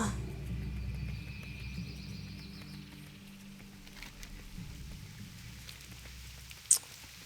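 Rain falls in a fantasy video game set in Shadowglen, a steady soft patter and hiss running throughout with low background hum and one brief sharp tick near the end.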